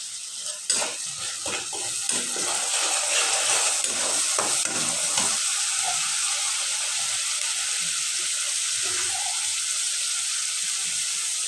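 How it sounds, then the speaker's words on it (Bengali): Spice paste of ground coriander, cumin, turmeric and chili frying and being stirred in a pan, a steady bright sizzle with scattered scraping and utensil knocks early on, then settling into a constant hiss. "আমি দিয়ে দিলাম মশলাটা কষানোর জন্য।"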